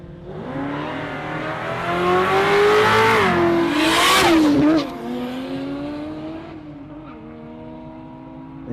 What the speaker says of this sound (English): Danny Martin, MB2, manual blowing, 6-cylinder by the sound of it, could be all RB30.